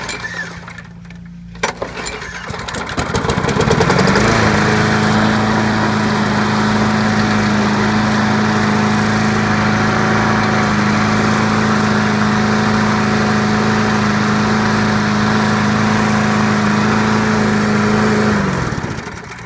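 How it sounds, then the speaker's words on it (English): A lawn mower with a primer and a newly cleaned carburetor starts after a short pull and then runs steadily at a loud, even, close-up drone, cutting off at the end. "So now this mower works fine"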